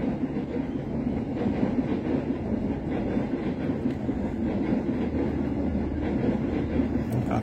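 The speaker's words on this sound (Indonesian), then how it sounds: "Wah, kereta lewat nih" A passing train rumbles loudly and steadily for the whole stretch, with a dense, continuous roll of wheels on rail and no voices over it.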